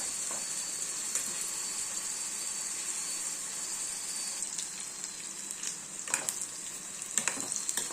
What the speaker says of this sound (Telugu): ఆయిల్ పెట్టి బ్రింజల్స్ని ఇలా కరిగి వేసుకోవాలి వేసి ఫస్ట్ ఇలాగా ఎర్రగా ఫ్రై అవ్వనివ్వాలి